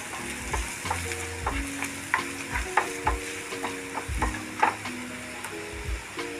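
Egg and potato fry in a pan with spices, stirred with a utensil: a steady oily sizzle beneath repeated scraping and clinking stirs, close and moderately loud, with no voices.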